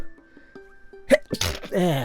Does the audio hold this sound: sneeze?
yes